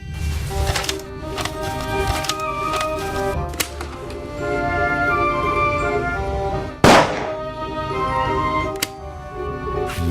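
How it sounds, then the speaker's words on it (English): Several sharp gunshot-like cracks stand out over a loud, busy synthetic backdrop, one especially strong burst near the middle; fake, game-like shots from the video game The Raven: Legacy of a Master Thief. "it's a fake gunshot sound"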